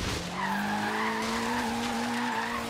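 Tires squeal in a long, rising and falling screech as a Ken Block Hoonigan Subaru WRX drifts sideways in Forza Horizon 3, with engine noise beneath the sustained slide.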